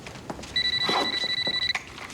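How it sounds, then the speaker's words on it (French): A telephone rings indoors, a bright electronic trill lasting about a second, fairly close and clear over a quiet room, with faint background noise around it. "tu réponds pas, c'est peut-être Esther"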